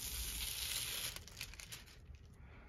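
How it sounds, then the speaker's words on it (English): Metallic foil being peeled away from a stamped design on fabric: a crisp, close crinkling rustle that is loud for the first second, then thins into scattered softer crackles. "we simply peel our foil away"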